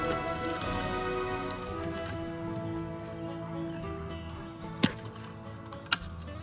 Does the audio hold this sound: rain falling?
yes